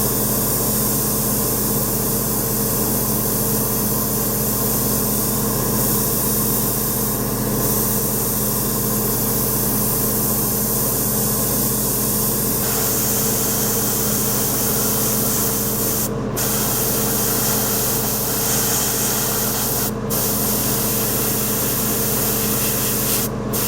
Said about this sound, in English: now I'm going to use my airbrush and paint the entire model with the main color